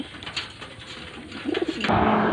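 Pigeons being readied for a toss release, a short cooing swell rising from outdoor background before a louder broadband rush at the end.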